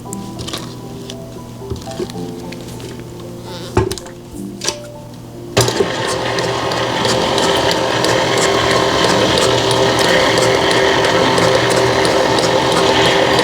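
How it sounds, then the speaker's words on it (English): After a few scattered clicks and clatters, an electric mixer whirs to life and runs steadily, close and fairly loud, while mixing a mayonnaise cake batter in a bowl. "when I turn it on, the mixer on, it won't fly around everywhere, make a big mess"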